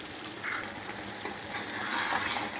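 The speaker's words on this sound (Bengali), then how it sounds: "এদিকে মাটন কষা চলছে" Mutton sizzles as it is sautéed in a pan, a steady hiss of frying that swells slightly toward the end with no voices over it.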